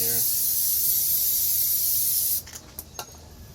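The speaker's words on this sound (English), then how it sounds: "I'm going to go get some brake cleaner, spray it down, clean it up" A loud, steady spray of brake cleaner hisses close by for a couple of seconds, then stops, followed by a few light taps, during a brake pad and rotor job on a 2001-2005 Ford Explorer.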